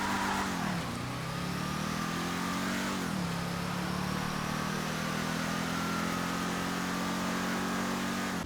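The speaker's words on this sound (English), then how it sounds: "I'm really enjoying the sound of this car though." A Declasse Tahoma muscle car in GTA Online accelerating hard, its engine climbing through two gear changes with brief dips in pitch before settling into a loud, sustained high-revving roar, with no talking.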